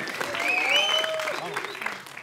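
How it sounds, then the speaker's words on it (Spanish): Clapping from the audience at a television talent show audition, a steady wash of applause beneath the judges' overlapping talk and a whistling tone. "Un aplauso, porfa."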